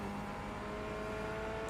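Mid-engine Corvette GTE race car engine in iRacing, a steady, fairly quiet droning engine note holding a constant pitch with no talking.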